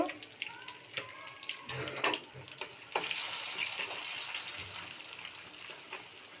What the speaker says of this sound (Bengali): এখন আদা রসুনগুলি দিয়ে দিল